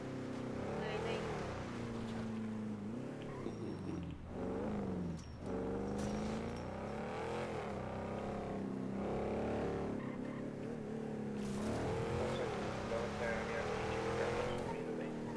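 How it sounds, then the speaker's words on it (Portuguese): Car engine driving steadily through a favela in a video game, a continuous droning hum with shifting pitch and revs under near-constant talk. "Vou roubar o carro de americano."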